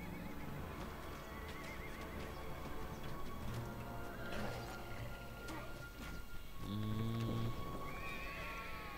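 Horses in The Battle for Middle-earth whinny loudly and clip-clop amid battle noise, with a long neigh toward the end and voices speaking over the game sounds.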